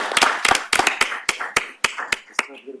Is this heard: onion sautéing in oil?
no